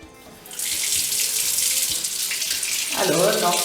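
Running tap water pours in a steady, loud stream during a Bernoulli demonstration with a ball drawn toward the flow, starting after a brief quiet moment and growing fuller near the end.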